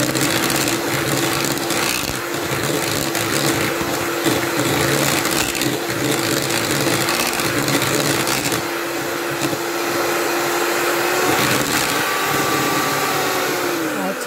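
An electric mixer beats banana walnut cake batter with a steady, loud motor whir and a sustained hum, its pitch dipping slightly near the end, with no voices over it.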